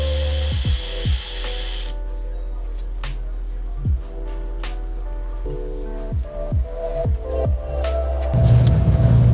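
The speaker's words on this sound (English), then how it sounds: "So we're going to start by removing the brake caliper. These are 14 millimeter bolts." A ratchet works on 14 mm brake caliper bolts on a 2011 Toyota Highlander, producing a series of sharp, close metallic clicks and knocks spaced irregularly, followed by a brief louder burst near the end.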